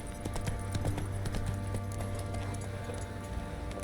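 The horse Roach's hooves clip-clop in a steady walking rhythm in The Witcher 3, close and clear over a low ambient hum of the game world.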